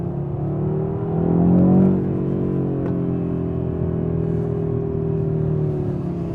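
A 2021 Audi RS3's turbocharged 2.5-litre five-cylinder engine revs up once, swelling to a louder peak, then settles into a steady, throbbing idle heard close by with no voices.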